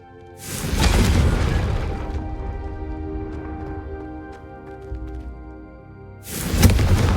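In the Hogwarts Legacy video game, a Confringo fire spell goes off with a heavy booming whoosh, then a low rumbling tail, then a second deep blast near the end, all loud and close with no talking.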